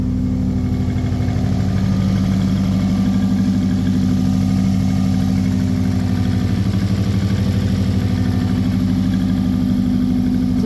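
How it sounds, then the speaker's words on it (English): A freshly built drift car's engine idles after a cold start that cranked roughly, with the check engine light flashing. It gives a loud, steady, close, low rumbling throb for the whole stretch. "It's alive."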